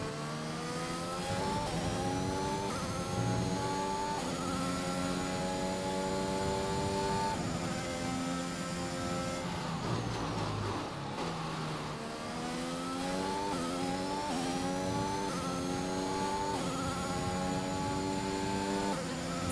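A Formula 1 car in the F1 2021 racing game at the Bahrain circuit screams at full throttle, its engine pitch climbing through the gears, dipping briefly mid-run and then rising again, loud and steady with no talk.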